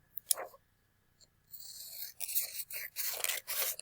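Scissors or a blade cut out part of a paper letter G, giving soft scraping, snipping strokes. A short rasp comes first, then a quiet pause, then a steadier run of close, faint cutting.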